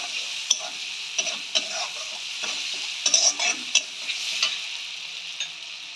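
Spice paste with chili and turmeric powder frying in a pan, a steady close sizzle with irregular scraping and stirring clicks from a spoon.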